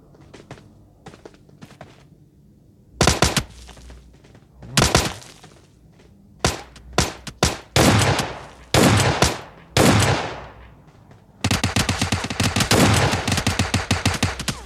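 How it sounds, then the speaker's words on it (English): Gunfire in a battle royale video game: scattered single shots, then short bursts that build into a long, loud stretch of rapid automatic fire near the end. "Somebody's shooting at me, but where?"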